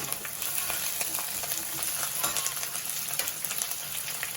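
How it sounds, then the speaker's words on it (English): Ginger garlic paste frying in hot oil with green chilies for spicy pepper chicken, a loud, continuous sizzle with crackling pops and occasional stirring scrapes. "Fry well. 1 spoon ginger garlic paste."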